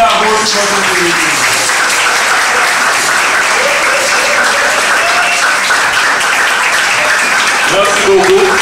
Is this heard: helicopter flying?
no